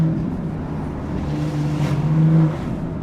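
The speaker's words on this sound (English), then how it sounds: "the air gets sucked in by this Venturi intake" A BMW M140i with a Venturi intake hums and sucks in air on the Furka Pass, a moderate, steady engine drone that swells briefly near the end, with no voices.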